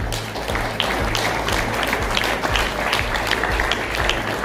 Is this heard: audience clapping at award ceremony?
yes